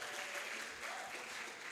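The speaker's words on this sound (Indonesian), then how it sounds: "Tepuk tangan sekali lagi buat narasumber kita untuk kesempatan kali ini" Audience applause at a lecture, sustained steady clapping from a crowd through the whole stretch, even and unbroken with no voices on top.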